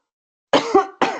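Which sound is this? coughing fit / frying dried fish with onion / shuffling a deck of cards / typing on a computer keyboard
coughing fit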